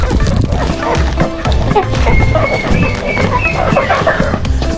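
Chickens shut inside a sack with air holes, being carried while being moved from a coop to free range, give muffled clucks and squawks amid rustling and bumping, with a voice speaking now and then.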